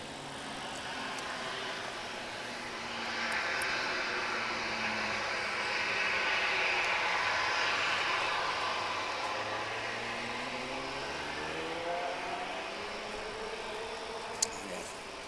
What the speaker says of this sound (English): That's the ATR 72 destination,